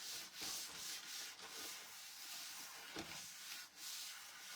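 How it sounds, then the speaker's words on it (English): Steady rubbing and scrubbing, a cloth wiping spray off a patina-painted surface back and forth in repeated strokes, close and fairly loud with hissy texture. "Let me wipe that spray off."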